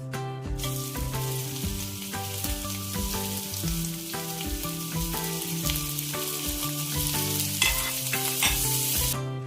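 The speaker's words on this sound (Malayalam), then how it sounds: "നമ്മൾ ചോപ്പ് ചെയ്ത് വെച്ചിരിക്കുന്ന സവാള നമുക്ക് ആഡ് ചെയ്ത് കൊടുക്കാം" Chopped onions sauté in oil for beef biryani, a continuous frying hiss under a steady, tonal, music-like layer with regular pulses, and no voices.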